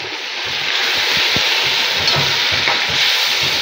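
Tomatoes and ginger-garlic paste hitting hot oil with frying onions for degi matar biryani, giving a loud, steady sizzle throughout, with soft scraping knocks from stirring.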